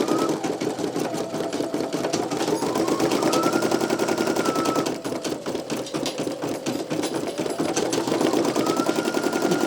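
A Brother PE900 embroidery machine stitches a design, 21,000 stitches in, with a loud, rapid, steady mechanical chatter close by, easing slightly for a moment midway before resuming at full pace.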